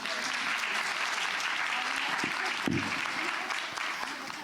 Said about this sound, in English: another round of applause to Dr. Neva Alexander